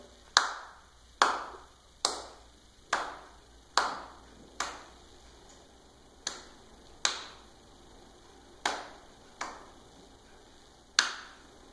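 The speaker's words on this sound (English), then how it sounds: "what she did is she clapped" A beginning cello student claps a rhythm pattern, about fourteen crisp, sharp claps in a steady but uneven beat, each ringing briefly in a quiet room with no talking.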